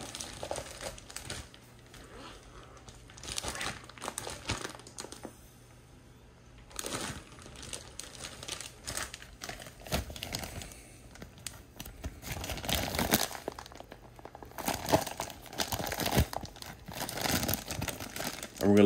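A plastic bag crinkles and rustles intermittently at close range as a Monster Grip crawler tire is sealed inside it and the air is drawn out, with soft bursts of handling noise and no talking.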